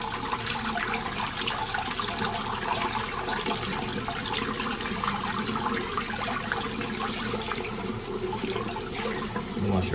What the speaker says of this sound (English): Wash your blueberries here.